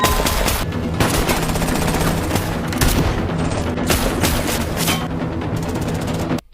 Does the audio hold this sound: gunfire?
yes